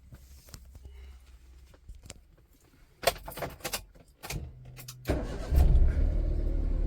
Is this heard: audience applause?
no